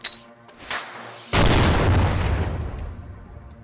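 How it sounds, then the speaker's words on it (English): A flashbang stun grenade detonates in a close-quarter battle setting, one sudden loud broadband blast whose rumble decays over a couple of seconds, preceded by quieter clicks and handling noises. "The pin is pulled, then the explosive detonates with a large sound and light flash."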